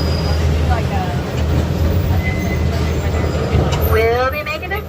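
Scenic park train on the San Antonio Zoo's Union Pacific line in Brackenridge Park, a steady rumbling ride with wheel squeals under an amplified announcer's voice.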